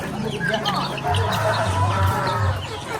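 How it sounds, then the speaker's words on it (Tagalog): Chickens cluck steadily, up close at what looks like a home building site, with a low engine drone and someone talking over them. "Daming manok, oh."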